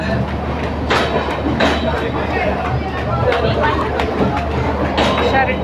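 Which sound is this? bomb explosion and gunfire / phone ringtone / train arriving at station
train arriving at station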